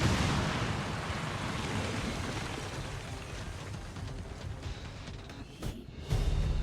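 Explosive charges detonating in the video game XCOM 2, a loud sustained rumbling roar that fills the scene and slowly tapers, with a final low thump near the end.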